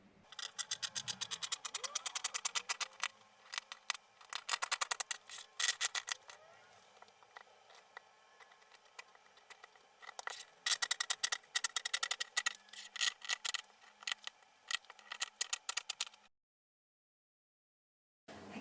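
Scissors snip through dress fabric while pattern pieces for a vintage-inspired Vogue retro dress are cut out, giving quiet, close bursts of crisp snipping and rustling separated by brief pauses, ending in near silence.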